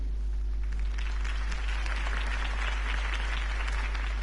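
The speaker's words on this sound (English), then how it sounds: "If only Mr. Wayne, my campaign's largest backer, could have heard that applause" A crowd applauding loudly and continuously in the video game Batman: The Telltale Series, a dense wash of clapping that holds steady throughout over a low rumble.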